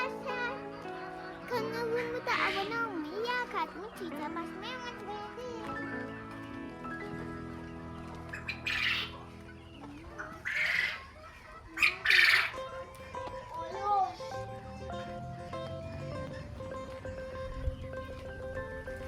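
Loud, harsh bird squawks burst out several times at Çorlu Zoo, Turkey, over a bed of background chatter and children's voices, with tonal calls in between.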